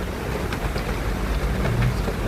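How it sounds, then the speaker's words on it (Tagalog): Heavy rain pours down steadily as a dense, continuous wash of noise, with occasional louder drips and patters rising above the downpour. "Medyo malakas po ang ulan at dinig din po yung ating kalantog tagatak ng ulan, digatik ng ulan"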